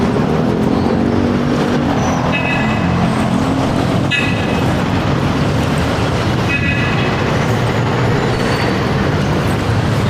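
Busy street traffic rumbles near the Victoria Line bus terminal in Olongapo, with loud, continuous engine noise from passing vehicles and a few short horn beeps cutting through.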